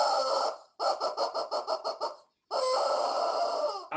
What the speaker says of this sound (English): let me let you hear the chicken first.